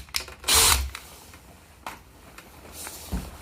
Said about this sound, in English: Now I'm drilling the hole to install the cabinet knob.